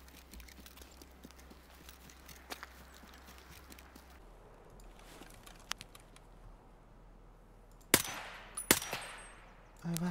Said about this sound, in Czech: To já se musím jít podívat na tu střelbu.